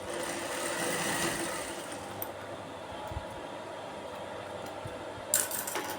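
Sewing machine stitching the shoulder seam of a petticoat, a steady mechanical whir running for most of the stretch with a brief clatter near the end, heard alone without talk.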